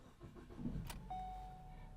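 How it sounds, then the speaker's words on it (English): A Ford Focus cranks briefly and fires up on a newly programmed spare key, then settles into a quiet, steady idle with a thin whine running under it. "The engine fired right up."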